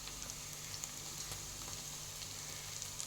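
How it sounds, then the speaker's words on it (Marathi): Onions and green chillies sauté in a pan for a dry vegetable dish. A faint, steady sizzle crackles throughout with no voices. "मिरची 2 मिनिट परतून घेऊ।"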